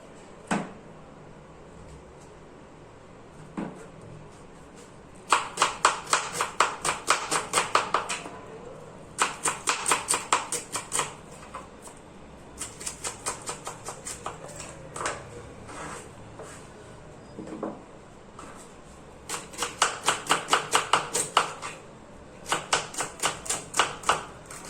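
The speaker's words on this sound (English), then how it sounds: "I'm going to cut it well." Rapid bursts of a knife chopping onion on a board, quick rhythmic clusters of sharp taps separated by short pauses, close and fairly loud, with a few isolated single knocks in between.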